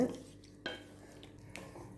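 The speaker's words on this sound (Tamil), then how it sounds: "தண்ணி ஊற்றி நல்லா கிளறி விடுங்க." Spoon scraping and knocking around a pot of chicken curry (kulambu) after water is added, a few soft distinct clinks over a quiet simmer.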